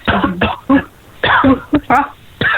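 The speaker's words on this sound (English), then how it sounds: "Who's coughing?" Several short coughs and throat-clearing bursts come in quick clusters, loud and close, with brief silences between them.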